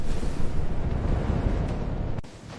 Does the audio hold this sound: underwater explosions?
yes